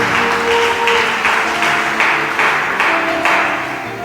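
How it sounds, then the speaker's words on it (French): A church congregation claps together in praise, a loud, steady rhythmic applause in regular pulses with a sustained musical tone ringing underneath. "Acclamons pour le Seigneur."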